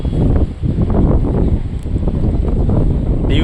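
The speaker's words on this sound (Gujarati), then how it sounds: "દીવમાં અહીંયા પવન બહુ છે" Strong wind in Diu buffets the microphone outdoors, producing a loud, continuous low roar and rustle with brief gusty swells and no voices.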